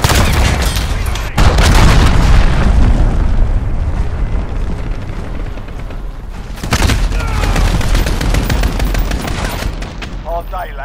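Loud, continuous explosive rumble of a cruise missile strike in Call of Duty Modern Warfare, with a heavy burst near the start and another near the middle amid sustained battlefield roar and gunfire, with game voice lines over it.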